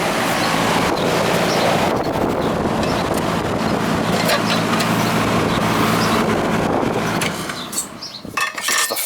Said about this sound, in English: Fan running.